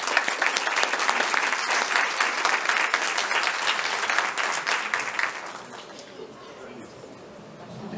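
An audience at the opening panel of an educational technology congress breaks into sustained applause, dense and steady for about five seconds before thinning out to scattered claps.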